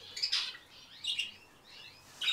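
Budgerigars and a finch chirp in an aviary, giving bright, quick tweets in short bursts, fairly faint and slightly distant, with no voices.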